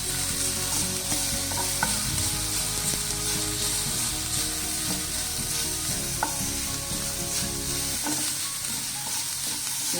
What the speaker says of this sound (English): I will be adding the ginger paste and the garlic paste, and I will be frying it a little bit along with the onions and the chilies.